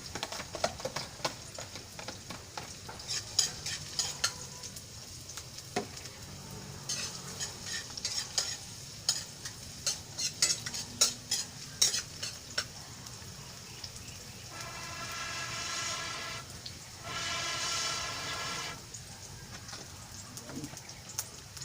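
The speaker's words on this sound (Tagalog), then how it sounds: "Ito guys, yung bawang, sama na natin lahat." Garlic fries in a pan over a wood fire in an outdoor dirty kitchen, with repeated spatula scrapes and clinks over a bright, rain-like sizzle that swells louder for stretches.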